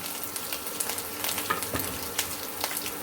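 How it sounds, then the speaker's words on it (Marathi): Crushed garlic, ginger, green chillies and red chillies sautéing in a pan, with a close, continuous sizzle and quick, regular stirring scrapes throughout. "त्याला आपण परतून घेऊया लसूणला जळू द्यायचं नाही"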